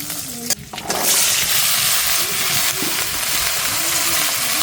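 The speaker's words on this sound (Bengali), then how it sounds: "সব মশলা একটু হালকা একটু বেজে নিলাম" Spices frying lightly in a pan give a steady, fairly loud sizzle that follows a brief clatter at the start and continues evenly throughout, with faint stirring underneath.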